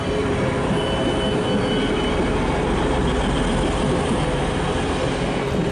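A British Rail Class 185 diesel train rumbles past close by at Manchester Piccadilly station, a steady loud roar of wheels and engine with faint rhythmic clatter, no voices.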